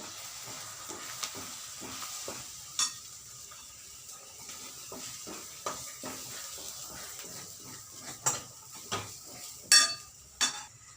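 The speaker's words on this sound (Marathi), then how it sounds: "याला चांगलं फ्राय करूया तेलात" Masala for paneer tikka fries in hot oil, giving a soft, quiet sizzle broken by sharp scrapes and clinks as a spoon stirs it against the pan.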